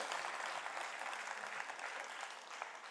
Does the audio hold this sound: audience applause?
yes